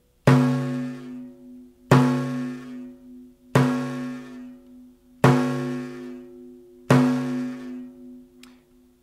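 Five deep, resonant strokes on a frame drum, evenly spaced about every two seconds, each booming and ringing out slowly before the next hit.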